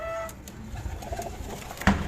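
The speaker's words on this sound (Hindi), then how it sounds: "कबूतर देखें भाइयों, कबूतर देखें, खजाना खजाना।" Karachi high-flyer pigeons coo softly in a short, fairly quiet stretch, with low murmuring calls and a brief sharper sound near the end.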